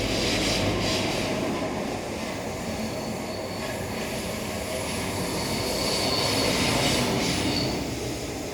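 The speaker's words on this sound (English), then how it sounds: "train coming." A train rumbles past outdoors on a warm day, a steady broad roar with faint wheel squeal that swells slightly near the end and fills the whole stretch without talk.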